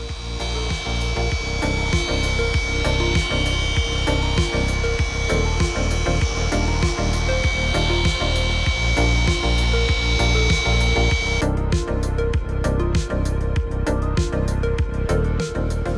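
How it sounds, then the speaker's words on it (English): A machine polisher works car paint on a Suzuki Jimny outdoors, a steady, loud whirring hum with rhythmic rubbing strokes, the pitch shifting near the end, with no speech. "it's just a matter of polishing all the paint section by section throughout the entire vehicle"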